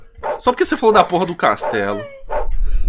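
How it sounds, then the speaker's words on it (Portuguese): A dog barking in the background of the Mickey Mania video game, short yapping barks mixed in close under loud Portuguese talk from players. "Tem um cachorro latindo no fundo."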